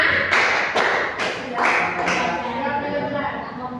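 Children clap in a counting clap chant: five sharp claps in an uneven, quickening rhythm, close and fairly loud, with voices chanting over them.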